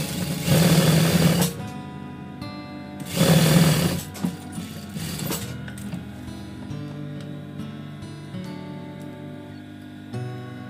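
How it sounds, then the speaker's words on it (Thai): A sewing machine stitching fabric for a bag, two close loud bursts of rapid whirring stitching separated by pauses, then quieter handling and faint mechanical sounds. "แล้วเราก็เย็บติด"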